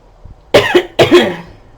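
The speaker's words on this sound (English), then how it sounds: "this cough is just getting to me" Two sharp, close coughs in quick succession, each a short burst with a brief pause between, loud against near silence.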